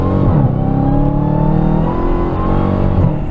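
A 2023 Dodge Challenger SRT Black Ghost accelerating, its engine a loud, close, sustained roar with a steadily climbing, throaty pitch and brief shifts in tone, heard from inside the car.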